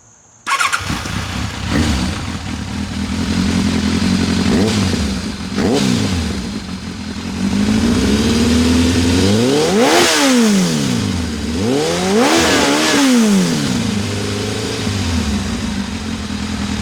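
A warmed-up 1999 Kawasaki ZRX1100 motorcycle engine with a new exhaust starts and idles loudly up close, then revs hard several times, rising and falling, with a throaty exhaust rumble between the revs.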